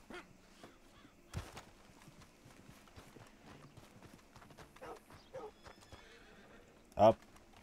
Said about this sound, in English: My horse is just right over here.